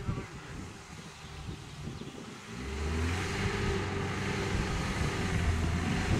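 Off-road vehicle pulling away in first gear on a Carpathian mountain trail, the engine rising into a steady, loud low-pitched drone after a quieter idling start, heard up close with wind buffeting the microphone.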